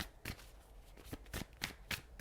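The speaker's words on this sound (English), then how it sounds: "2 more shuffles, please." A deck of tarot cards is shuffled in several quick riffling bursts, soft and close in a quiet room, with no voice over it.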